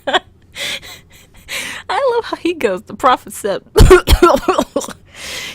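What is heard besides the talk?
a man coughing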